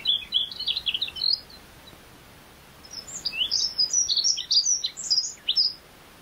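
A dunnock sings alone: a quick, high, warbling phrase, a short pause, then a longer jumbled run of thin twittering notes, clear and fairly close over a quiet background.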